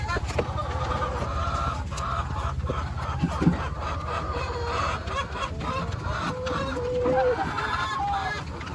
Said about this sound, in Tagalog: Mahirap din mag-alaga ng mga ganitong manok